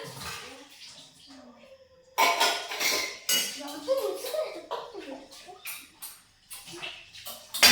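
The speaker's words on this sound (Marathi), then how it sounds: "तू आज पहिल्यांदाच भांडे घासू राहिला" A child scrubbing pots and dishes, with irregular clinks, clatters and scraping of metal vessels in bursts, close by, interleaved with people talking.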